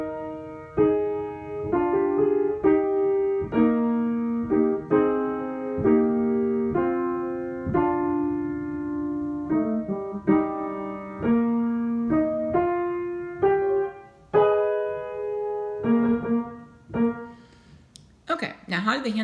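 Piano plays the right-hand part of the hymn Crown Him with Many Crowns, a steady series of sustained chords and melody notes in regular rhythm, close and clear, ending with a brief rustle.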